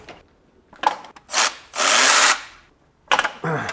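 Power tool zipping loose the torque converter bolts on a BMW E39 530i Touring, several sharp bursts of whirring and ratcheting of varying length, close and loud, with quiet gaps between.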